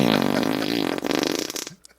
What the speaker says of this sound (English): I gave you the fart buttons